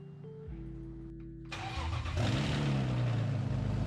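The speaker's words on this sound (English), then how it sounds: "I started the car and started bleeding the system" A BMW E36 with a swapped-in M54B30 inline-six cranks and fires up, the starter whirring briefly before the engine catches and settles into a loud, steady idle close by.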